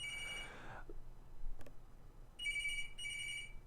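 A telephone rings with a trilling electronic tone: one burst at the start, then two more after a pause. It is clear, moderately loud and alone, with no talk.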